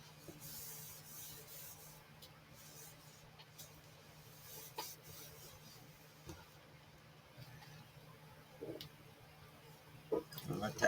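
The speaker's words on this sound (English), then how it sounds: "I'm going to spray it with some mold release." A long, steady hiss of an aerosol spray of mold release, faint and continuous, with a few light clicks and rustles near the end.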